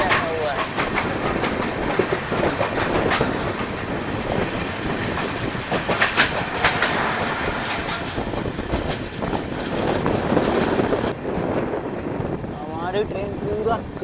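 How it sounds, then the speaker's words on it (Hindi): Dhanbad-Bhubaneswar Express rolling around a curve in Odisha, loud continuous rumble with clickety-clack of wheels and some wind buffeting, heard from onboard; voices talk over it. "हमारी ट्रेन पूरा कर्व लेते हुए है।"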